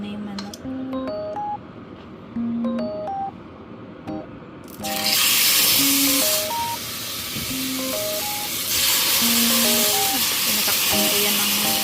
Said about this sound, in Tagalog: Prito ko muna yung manok.